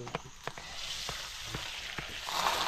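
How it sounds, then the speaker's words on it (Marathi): Curry leaves and spices temper in hot oil with a soft, faint sizzle punctuated by several sharp pops and crackles spaced through the moment. "तडका फोडणी."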